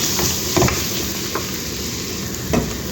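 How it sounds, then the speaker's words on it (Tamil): Tomato with turmeric, garam masala and coriander powder sautéing in a pan for a green mung bean dish: a steady close sizzle with a few soft stirring scrapes, and no talking. "போட்டு நல்லா வதக்கி விடுவோம்"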